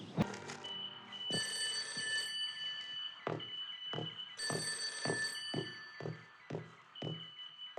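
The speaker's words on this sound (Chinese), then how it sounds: "委员长来电。" An old-style telephone bell rings with an incoming call in a wartime headquarters, two long bright trilling rings separated by a pause, with a few dull thumps and knocks between them and no talking.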